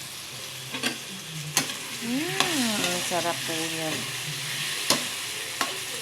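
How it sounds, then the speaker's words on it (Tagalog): Eggplant sizzles and fries in hot oil with a steady crackle, broken by sharp utensil clinks and stirring, while a person speaks briefly over it. "Aking ipiprito muna ang mga talong."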